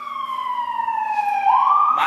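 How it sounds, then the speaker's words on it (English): A police siren sounds from outside, a loud wailing tone sliding downward and then sweeping back up sharply, with no voices over it. "mind the police sirens that are going on outside"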